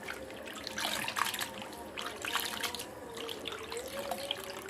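Small mara fish being rinsed by hand in water in a kitchen, with steady splashing and trickling close by, rising and falling in short surges throughout, with no talking.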